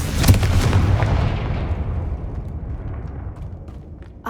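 The Confringo fire spell in the video game Hogwarts Legacy sets off one loud, close explosion with a heavy boom. A long rumbling tail then fades away over several seconds.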